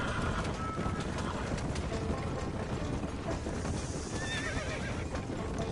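A horse in the Red Dead Redemption video game whinnies loudly over a steady clip-clop of galloping hooves, the hoofbeats continuous and close throughout.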